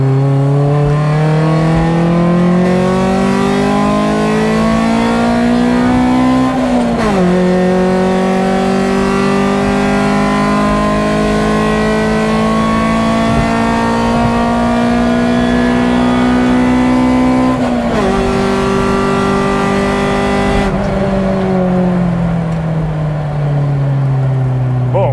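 A lightened Honda Civic with a B16 engine accelerates hard along a country road, revving high through the gears with brief dips at shifts; the engine note is loud and close, with no talking.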